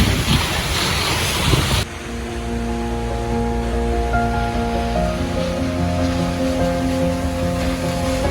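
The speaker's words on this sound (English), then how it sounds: "I'm walking behind the waterfall, not getting too close to the edge" Twin Falls waterfall heard from behind the falling water: a loud, dense roar for under two seconds that cuts abruptly to a lower, steadier wash with a faint hum.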